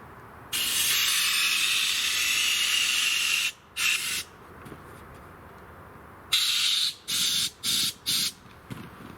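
A compressed-air nozzle hisses into float tube cushions, first in one long steady blast of several seconds, then a short burst, then a series of four or five quick, close squirts separated by brief pauses.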